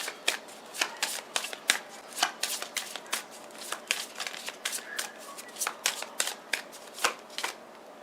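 Oracle cards being shuffled by hand, a fast irregular run of crisp riffling flicks and slaps, close and fairly quiet, continuing steadily throughout.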